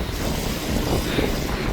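Wind gusts steadily across a kite surfing beach in Switzerland, a loud continuous rushing buffet against the microphone with no voices.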